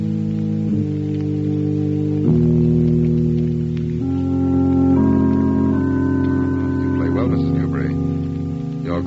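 Organ playing strange, nameless music, a slow sustained sequence of held chords and shifting tones, close and fairly loud with a faint hiss underneath, no talking.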